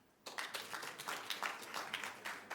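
A small scattered group of audience members claps at a conference talk, starting abruptly and continuing as faint, uneven hand claps.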